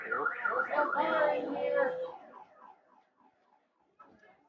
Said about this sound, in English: to hear the car alarm was going off after a foul ball